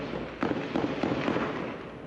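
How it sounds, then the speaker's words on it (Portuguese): A distant burst of gunshots during a predawn police operation in the Alemão and Penha favela complexes of Rio de Janeiro, with about five sharp reports in quick succession over a low outdoor background. "moradores dos complexos do Alemão e da Penha registraram os tiros"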